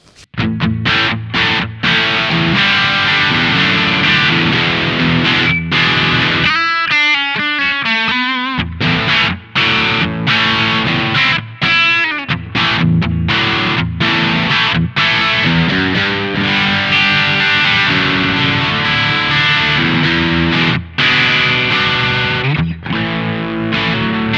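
Overdriven electric guitar through a Fulltone OCD 1.7 pedal with drive backed off plays a continuous, loud riff with chugging chords and a brief picked passage, crunchy but slightly less saturated, close and unbroken.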